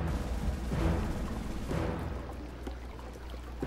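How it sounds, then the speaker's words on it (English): Explosions in the Rogue Warrior shooter game: two heavy booming blasts about a second apart, each with a rumbling tail, then fading to a low rumble. "Random explosions."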